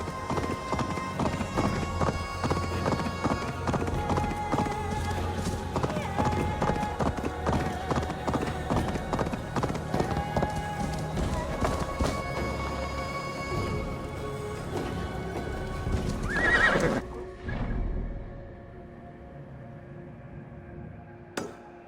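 A horse in the video game Assassin's Creed Valhalla gallops in a steady, loud clip-clop of hooves, then slows and gives a short neigh near the end before quieter ambience.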